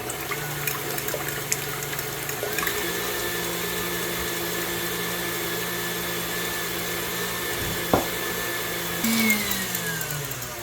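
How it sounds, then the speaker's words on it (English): Electric hand mixer whipping egg whites with sugar for a dairy-free chocolate cake, a steady motor whine with sloshing, close and continuous, with a short rise in pitch partway through and no talk. "now we are going to get the egg whites whipping"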